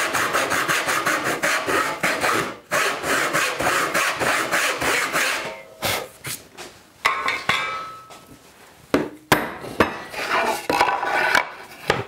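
Hand tool cutting a mortise into a wooden workpiece for a paper towel holder, a rapid run of scraping, rasping strokes followed by scattered knocks and chiseling taps, close and fairly loud, no voices.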